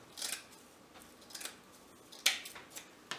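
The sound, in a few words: scissors cutting coconut grass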